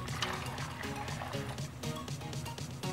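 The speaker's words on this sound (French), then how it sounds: "On va mettre l'eau" Water poured into a cooking pot of apples, a faint, continuous trickling and filling sound with light splashes, quiet throughout.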